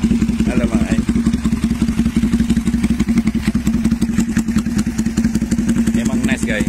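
A Kawasaki Vulcan 500 motorcycle engine idles close by with a steady, rapid chugging pulse, loud and continuous throughout.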